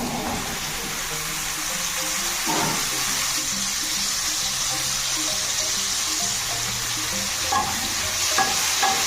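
Chhatu mushrooms frying in hot oil, with a steady sizzle and occasional scraping stirs of a spatula against the pan, close and continuous with no one speaking.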